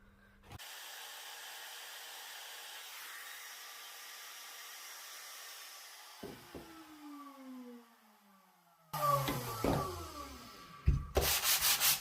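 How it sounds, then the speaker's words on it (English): Steady scratchy rubbing of a 120 grit sanding pad by hand on wood, continuous and close, followed by brief knocks and brushing sounds near the end. "To remove any pencil lines with a 120 grit sanding pad."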